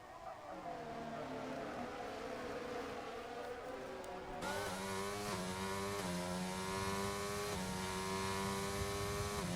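Formula 1 cars race on the Azerbaijan street circuit in a video game, with a steady engine drone that rises in pitch through the gears as the car accelerates, loud and continuous with no voices.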